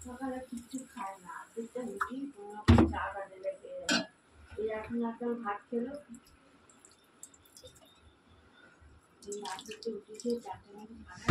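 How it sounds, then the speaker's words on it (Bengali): Water poured from a tap into a cooking pot holding potatoes and soybeans, with splashing and metal clinks amid someone talking. "তো চলো আমি এটাতে একটু জল দিয়ে সেদ্ধর জন্য বসিয়ে দিই।"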